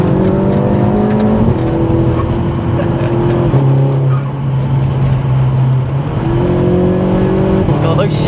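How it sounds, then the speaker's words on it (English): A tuned Audi S3 8P with a quick-shifting DSG gearbox pulls hard, its engine note climbing then dropping abruptly at each rapid gear change, loud and close with people talking over it. "God, those shifts are quick,"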